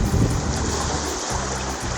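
Strong sea waves heard from a fishing boat make a loud, continuous rushing wash mixed with wind buffeting the microphone and a low engine-like drone, with no voices.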